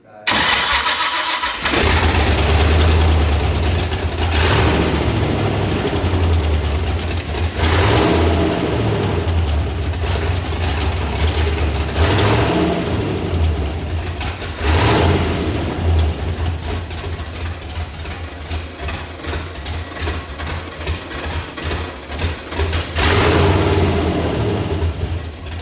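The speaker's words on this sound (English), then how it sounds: "We had to give it a little bit of extra juice because the battery was pretty dead, but it fired up." A LS-swapped 1951 Ford Shoebox on a weak, nearly dead battery fires up and runs loud and close, its engine surging through repeated throttle blips between rougher idle stretches for about twenty-five seconds.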